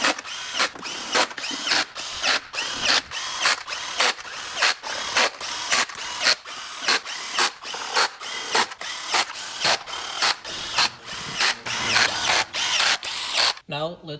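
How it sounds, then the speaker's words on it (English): Valve cover bolts being run in by hand on a BMW M57 diesel engine: a steady string of short ratcheting clicks in quick bursts, close and fairly loud, with a brief pause near the end. "And now let's just lightly screw all the bolts."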